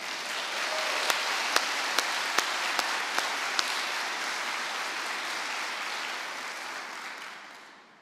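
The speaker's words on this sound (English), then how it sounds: "Would you two please stand up so we can give you some applause?" An indoor audience at a NASA event at Stennis Space Center applauds steadily, a dense wash of clapping with a few sharp claps standing out, fading at the end.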